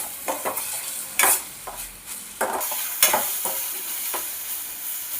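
Curry leaves stirred and fried in hot oil for an egg garlic curry, with a steady sizzle broken by scraping spoon strokes and a few sharper clinks against the pan, close and moderately loud.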